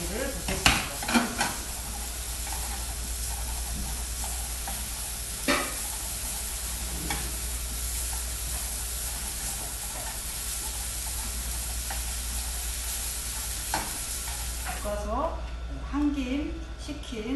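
Seasoned julienned beef and mushrooms stir-fried in a pan, giving a steady close sizzle and scraping stir throughout, with a few sharp utensil knocks and a voice speaking near the end.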